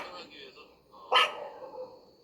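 Neighborhood dogs in a residential alley give one fairly distant bark that stands out briefly above a soft, murmuring background, with quieter yips and rustling around it.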